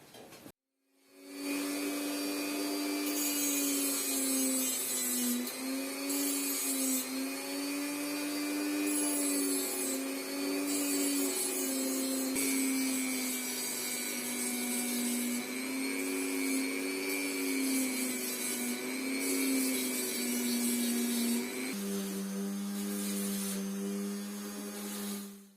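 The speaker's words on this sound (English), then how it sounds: "now we can start grinding" A power grinder works the broken blade of a Metabo BAS 261 bandsaw clamped in a jig, a sustained high whine with a steady tonal hum that shifts pitch slightly toward the end, alone and moderately loud.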